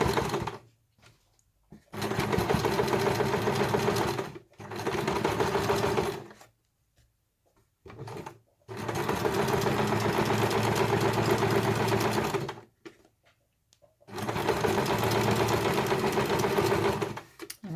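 A sewing machine stitches thick fabric for a peg bag in four runs of steady, close mechanical whirring, each lasting a few seconds and separated by short silent pauses.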